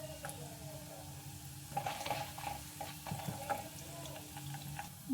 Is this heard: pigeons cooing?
no